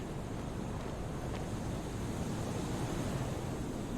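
Gusting wind at height in Disco Elysium, a steady broadband roar that blows on without letup and with no voices over it.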